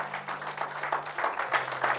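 A church congregation applauding, with steady, fairly faint clapping from a crowd throughout and a low hum underneath.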